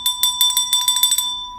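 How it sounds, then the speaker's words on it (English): A bell rung in rapid repeated strikes, about eight bright metallic dings in quick succession, close and ringing out alone. "Got to ring the bell."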